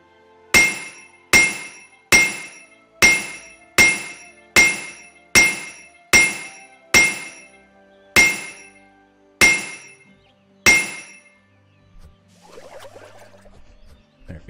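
Blacksmith hammering on a forge anvil in a shop-sim video game: eleven sharp ringing metallic strikes at a steady rhythm, slowing slightly toward the end, each with a bright clink and short decay, followed by quiet low rustling.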